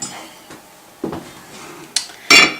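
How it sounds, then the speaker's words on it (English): A lid set onto a dish of hot crab dip sprinkled with paprika, heard as a few light clinks and taps over about two seconds, the last contact the loudest, with quiet gaps between. "Then put a lid on it."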